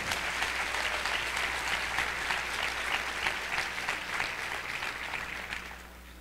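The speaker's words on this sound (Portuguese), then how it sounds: "Salva de palmas pro Rolf!" Audience applause at the opening ceremony of an international congress, as a representative is called to the stage; dense, loud clapping that holds steady for several seconds, then begins to fade toward the end.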